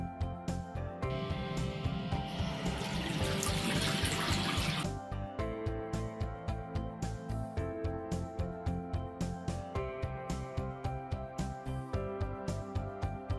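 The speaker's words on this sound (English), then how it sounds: "Open the lowest installed hot water tap." Water rushes from an opened hot water tap while an OSO unvented cylinder is drained; a steady hiss swells for a few seconds, then fades under rhythmic background music that runs throughout.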